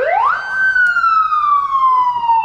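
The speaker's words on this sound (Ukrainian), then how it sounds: "крякавка, як називаємо її, сирена є." A prisoner convoy vehicle's siren gives a loud, close rising whoop that settles into a long falling wail, sounding alone.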